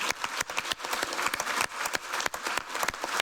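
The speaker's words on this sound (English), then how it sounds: "So I appreciate the applause, but it's not necessary" Audience applause at a health and freedom conference in Europe, a dense, steady wash of many hands clapping, loud and close, without talk.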